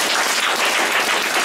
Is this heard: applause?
yes